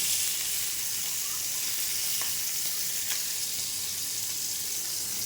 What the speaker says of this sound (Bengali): মাছ ভাজা ছেড়ে দিলাম